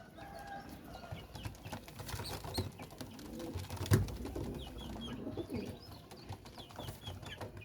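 Sialkoti flying pigeons, a golden and Sialkoti mix among them, cooing in a loft; low repeated coos, soft wingbeats and shuffling, moderately near, no voices.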